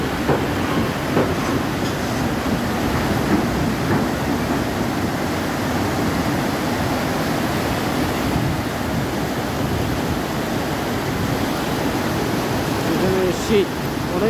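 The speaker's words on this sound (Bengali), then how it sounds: "পানি গলে এই ঝর্ণা দিয়ে পানি প্রবাহিত হচ্ছে" A Kashmir waterfall fed by snowmelt pours in a steady, dense roar of rushing water, loud and continuous throughout with no pauses.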